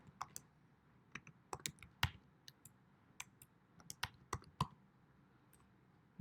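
Clicky computer keyboard keys tapped while typing a search for metallic bellows on a supplier website, irregular bursts of sharp keystrokes over about six seconds, close and fairly quiet with no voices.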